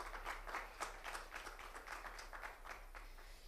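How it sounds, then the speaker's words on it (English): Scattered clapping from a small panel-discussion audience welcoming the panelists, moderate and fairly sparse, with individual claps standing out. "I would like everyone to give a big round of applause for our dear panelists"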